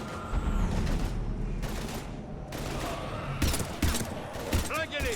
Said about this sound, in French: Mais on se fait canarder.